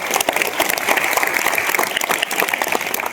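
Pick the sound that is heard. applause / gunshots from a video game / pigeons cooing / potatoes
applause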